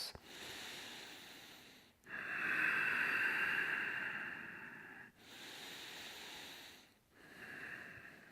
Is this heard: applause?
no